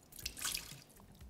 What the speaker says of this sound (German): Also warmes Wasser rein